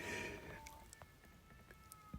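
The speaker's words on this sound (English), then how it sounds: "These cats is getting it in. And they are so loud." Cats outdoors yowl and cry loudly, a drawn-out caterwaul followed by several shorter, fainter meows and scattered noises, heard at a distance.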